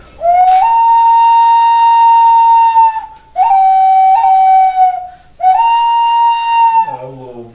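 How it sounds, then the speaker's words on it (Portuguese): A handmade ceramic wolf whistle blown in three long, loud, steady notes, each rising briefly at the start and wavering slightly, close up, with a brief lower sliding tone at the very end. "que é um lobinho, ó. Uhum. Sim. É um tipo de apito também, feito de cerâmica"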